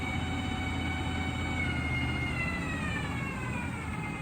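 A Southwestern TRAK 1630HS lathe spindle runs at about 1,000 RPM, giving a steady, close mechanical whine with layered tonal hum that drifts slightly in pitch, with no talking.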